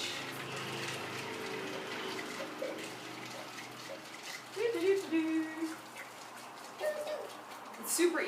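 Water swooshing in a jar of ice water while making water kefir, with soft sloshing and a few gurgling splashes that grow louder in the second half against a hiss of running water.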